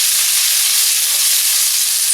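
Onions sizzle steadily in a pan as they caramelize with a pinch of salt, a constant close hiss with no break and no talking.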